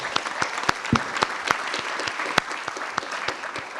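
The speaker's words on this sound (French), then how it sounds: "On vous applaudit, Madame Maujean." Audience applause at a conference workshop on retail property, a close, lively burst of many hands clapping with sharp individual claps standing out throughout.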